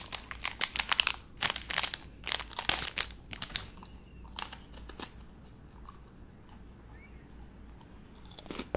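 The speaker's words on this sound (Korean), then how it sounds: "그동안 난 김치 하나 먹고" Kimchi being chewed close up in a soft, quiet setting: wet, crunchy bites in quick bursts that thin out into quieter, sparser chewing toward the end.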